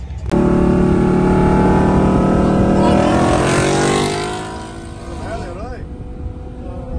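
A Lamborghini Huracan twin turbo and a twin turbo Mustang GT with a 10R80 transmission race from a 60 mph roll, loud engines roaring and rising in pitch through gears, then receding into lower road and wind noise.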